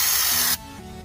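A spray gun applying Raptor Liner bed liner gives a loud, close, broad hiss that cuts off abruptly partway through, leaving a quieter hum.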